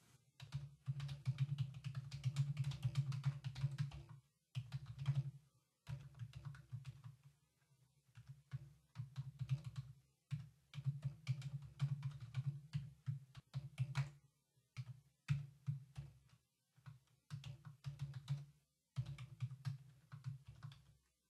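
Code typed on a computer keyboard in Visual Studio, a close, quiet stream of rapid keystrokes in bursts broken by short pauses, with no talking.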